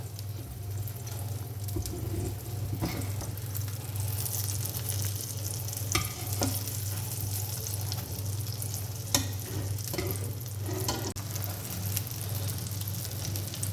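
An egg and a filled chicken-and-cheese sandwich fry in a pan with a steady close sizzle, broken by occasional scraping and stirring clicks, with no talking.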